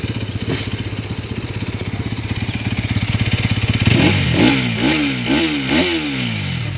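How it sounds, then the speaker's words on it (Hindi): A Bajaj Pulsar NS 200 motorcycle engine idles with a rapid, even thump, then revs up and down several times in quick, rising bursts close by. "अभी फटाफट से एक बार स्टार्ट करके आप लोगों को इंजन साउंड इसका सुना देता हूँ"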